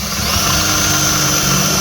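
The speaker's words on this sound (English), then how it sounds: "Pre-drilling the hole" A power drill boring a pilot hole near the edge of a plywood panel for a campervan pull-out countertop, a steady loud whirring motor for the whole stretch, no speech.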